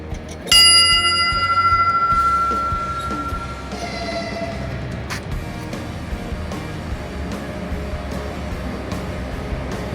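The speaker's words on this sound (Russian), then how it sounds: "Можно в склянку ударить." A single bright metallic strike of a ship's bell rings out near the start, its clear tone sustaining and slowly fading over a low background rumble.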